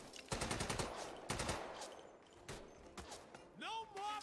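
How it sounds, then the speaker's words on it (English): Machine gun fire in the RAID: World War 2 video game, short rapid bursts of automatic shots in several separate volleys, fairly faint, with a voice speaking briefly near the end. "Someone take out that machine gun"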